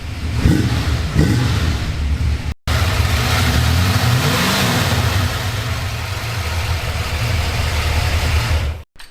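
A turbocharged Ford F100 engine revs hard through its exhaust, a loud, steady roar with two quick throttle blips early on, a brief break, then a sustained rising and falling rev that holds near and loud to the end.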